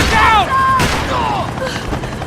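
Gunfire in the video game Max Payne 3 cracks through a short, loud burst of shots, while voices shout over it.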